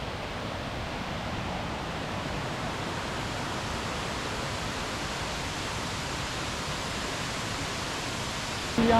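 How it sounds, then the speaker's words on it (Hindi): Kuang Si waterfall near Luang Prabang, Laos, sends water falling in a steady, dense roar that holds even and loud throughout, with no voices over it. "यहाँ से पानी गिर रहा है और इस पानी का कलर ब्लू है।"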